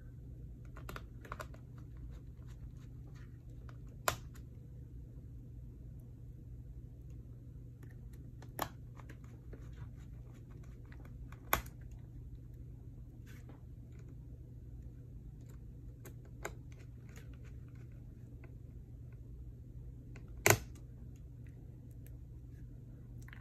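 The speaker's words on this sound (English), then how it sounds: "let's go ahead and put our screws in" Screws going into an HP ENVY x360 laptop during a touchpad board replacement, heard as faint small clicks and taps over a steady low hum, with a few sharper isolated ticks spaced across the stretch and no talking.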